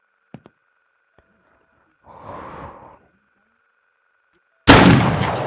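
Two quick, sharp gunshots crack close together in the sandbox game Beyond Sandbox. A breathy rustle follows, then a much louder, booming shot that rings out and decays at the end.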